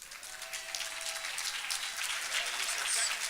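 A crowd at an awards ceremony applauds to welcome a speaker, sustained dense clapping from many hands that holds steady and swells slightly toward the end, with faint voices under it.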